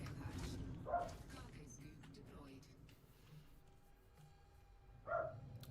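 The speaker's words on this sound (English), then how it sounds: "my dog. Wish he would stop shouting at squirrels" A pet dog barks at squirrels in two short bursts, one near the start and one near the end, faint and distant under a low steady background rumble.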